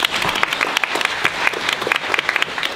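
Audience clapping for Krzyś, a child receiving a medal from a bishop at a film premiere, a lively burst of many hands clapping at close range that holds steady throughout.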